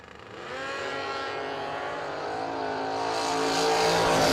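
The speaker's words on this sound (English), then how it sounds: "Another motorcycle on Mustang action here." At a drag race, a 2017 Hayabusa motorcycle runs against a Mustang, a steady, loud high-revving engine roar that climbs in pitch as the vehicles accelerate down the strip, heard alone without commentary.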